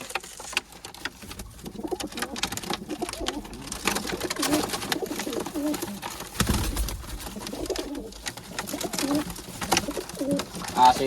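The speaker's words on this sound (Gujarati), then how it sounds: "આ એક સારી કબૂતરની જોડ છે આપણે" A pair of pet pigeons, male and female, coo softly in close, repeated low throbbing calls, with rustling and background noise around them.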